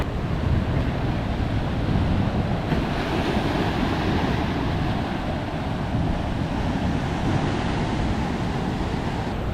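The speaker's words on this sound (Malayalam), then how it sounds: "കുഴിപ്പൻ തിരമാലകൾ ഭയങ്കരമായിട്ട് പണി തന്നുകൊണ്ടിരിക്കുകയാണ്" Strong sea waves surge continuously onto an eroding coastal beach where houses have collapsed into the sea, with a loud, dense roar and gusting wind buffeting the microphone throughout.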